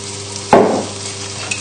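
Floured pork pieces frying in hot oil in a pan, with a loud burst of sizzling as the pieces are moved with tongs, fading into a steady crackle.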